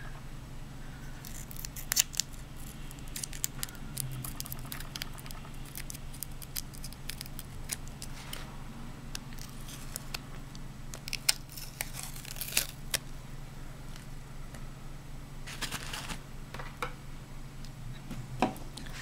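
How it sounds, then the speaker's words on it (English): Scissors snip away tape at the back of a water-marbled nail, with irregular small clicks and crinkles over a steady low hum, close and fairly quiet, no talk. "just take and cut off the tape in the back."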